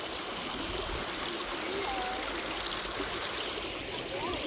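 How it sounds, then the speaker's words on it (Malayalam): The Chaliyar river, carrying extra water after rain, flows with a constant close rushing wash and light trickling that stays at an even level throughout. "this is our famous Chaliyar river"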